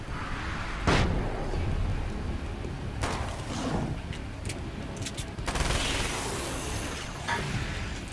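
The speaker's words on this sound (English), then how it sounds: "I'm just gonna put a flashbang in your face." A flashbang grenade bursting in the game Alan Wake's American Nightmare amid dense game combat, with a sharp bang and a few more loud cracking blasts over a constant roar of noise, close and loud, no speech.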